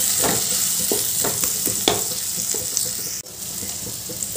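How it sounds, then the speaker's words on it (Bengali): Water splashes and swirls as a spice bowl is rinsed and poured into a cooking pan, a steady sizzling, stirring wash at close range with a few sharp clinks, no voices. "ওই মশলার বাটিটা ধুয়ে জল দিলাম"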